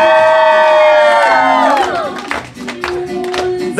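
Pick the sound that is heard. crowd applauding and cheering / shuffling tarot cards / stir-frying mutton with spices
crowd applauding and cheering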